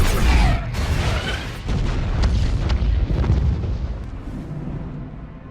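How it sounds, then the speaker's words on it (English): A bomb blast tears through a committee hearing in Batman v Superman, a loud deep boom with rumbling debris and crackling that stays dense and heavy throughout, slowly tapering off near the end. "as the Senator stutters on her words, a bomb goes off"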